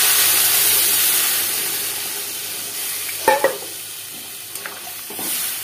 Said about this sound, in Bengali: এর ভিতরে আমি এখন জল অ্যাড করবো।